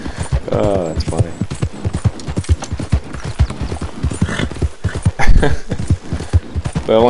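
Hooves clip-clop steadily from a ridden horse in Red Dead Redemption 2, the regular gait fairly close and continuing under constant chatter from someone talking over it.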